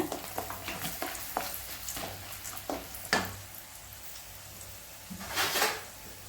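Buttermilk chillies frying in a pan for a Tamil tamarind rice tempering, a soft steady sizzle with intermittent stirring scrapes and taps, quiet and close, with no talking.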